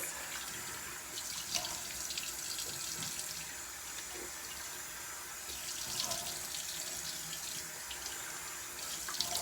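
A tap runs steadily into a sink while a face is rinsed, with a continuous close splashing hiss and occasional louder splashes from hands moving through the stream.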